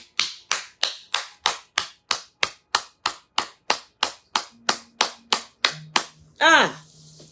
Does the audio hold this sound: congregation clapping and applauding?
yes